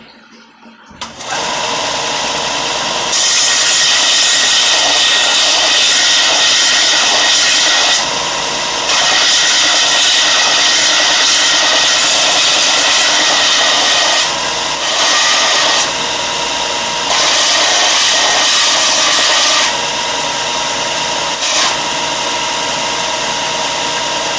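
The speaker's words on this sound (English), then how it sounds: "So turn the machine on and we're going to sand this just a little bit" A belt sander starts up and grinds a rusty railroad spike, a loud steady motor whir punctuated by harsher abrasive rasps as the metal is pressed against the belt several times, close by.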